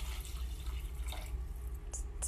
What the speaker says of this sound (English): you're going to add the potatoes, and you're going to cover it with water